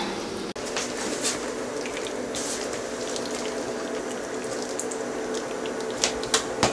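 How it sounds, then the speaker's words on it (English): Sauce is poured over a keto chicken cordon bleu casserole in a baking dish, giving a steady, close liquid pouring and trickling sound with a few light clinks near the end. "We are going to pour our sauce on."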